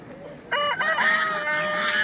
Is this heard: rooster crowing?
yes